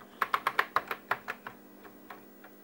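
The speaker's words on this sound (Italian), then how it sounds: "Proviamo la tastiera." Keys on a Commodore 64 home computer keyboard are pressed in a quick run of about a dozen crisp, plasticky clacks, close and distinct, thinning out to softer, slower taps.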